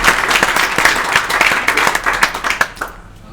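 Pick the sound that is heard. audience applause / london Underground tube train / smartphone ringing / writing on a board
audience applause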